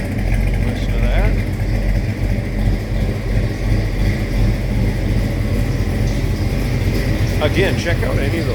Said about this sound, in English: Truck sounds great. Listen to that.